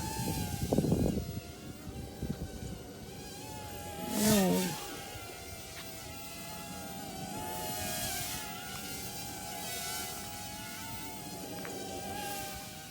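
A small ATOYX AT-96 WiFi FPV quadcopter drone with a 400 mAh battery hums and buzzes steadily in flight nearby, its high whine shifting in pitch as it manoeuvres, with a brief louder swell midway.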